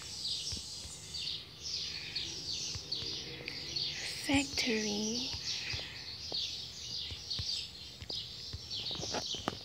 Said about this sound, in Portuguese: acabou de passar um pássaro louco